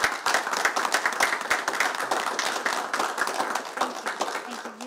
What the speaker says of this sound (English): I would like to give Glenn a round of applause for those of us that are still here